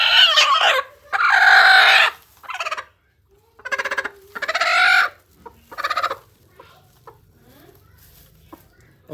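A hen brooding a clutch of eleven eggs gives loud, close clucks and drawn-out grumbling calls in a few bursts, then quieter, scattered murmurs fading toward the end.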